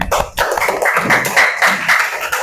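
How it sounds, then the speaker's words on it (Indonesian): Classroom children clapping together after finishing a sandwich-making task, a lively burst of quick claps with voices mixed in, close and fairly loud. "Tepuk tangan."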